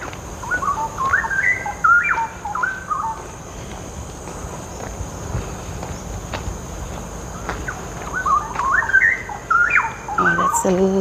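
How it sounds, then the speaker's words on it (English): Birds chirp and trill in bursts of quick rising and falling notes at Dairy Farm Nature Park in Singapore, moderately close over a steady insect hum and faint outdoor background, with a pause between the two sets of calls. "that's the lovely sound of the bird"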